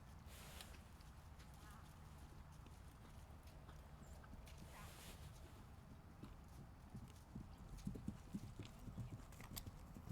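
Horse hooves cantering with a steady rolling clip-clop, close and fairly loud over outdoor background noise, with an occasional faint whinny.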